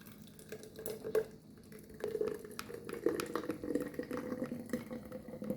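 Homemade Jamaican soursop punch is poured into a container, a faint, soft gurgling trickle of thick liquid with small splashes, heard quietly and close.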